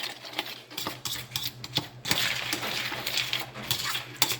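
Dog food stirred with cottage cheese or yogurt in a bowl, with close, irregular clinking and scraping taps of a utensil against the dish and no talking.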